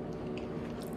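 Someone chews a homemade potato chip cookie dusted with powdered sugar, a close, steady crunching and munching running through the whole second with no talking.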